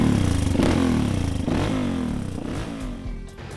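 Honda CR230F dirt bike fitted with a 30mm pumper carburetor, its engine revving loud and close with a steady buzzing roar and quick throttle blips that rise and fall.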